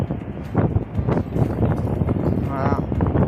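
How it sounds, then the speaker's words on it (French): Gusty outdoor wind buffets the microphone in loud low rumbling surges, with someone talking over it throughout. "Désolé pour le vent. Il y a pas mal de vent."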